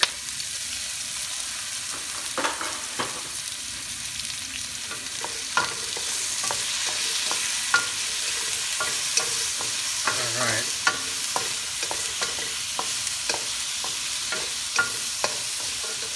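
Garlic fries in a pan for Shrimp Lo Mein, a steady broad sizzle broken by sharp scraping clicks as a spatula stirs it, close and continuous with no talking.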